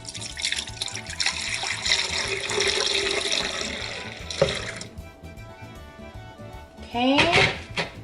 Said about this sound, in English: now we are going to add in our milk